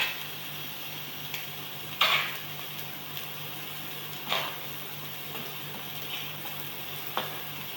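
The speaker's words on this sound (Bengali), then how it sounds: "এবার আমি ফ্রেশ ধুয়ে রাখা চিকেনগুলো দিয়ে দিচ্ছি" Fresh washed chicken pieces sizzling in a preheated pan with no oil or water, a steady soft hiss with a few sharp crackles and clinks standing out at intervals, fairly quiet throughout.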